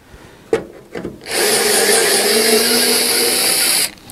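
Power screwdriver driving a Phillips screw into a number plate holder on a bike carrier, a couple of short knocks followed by a loud, steady whirring buzz lasting a few seconds, then stopping.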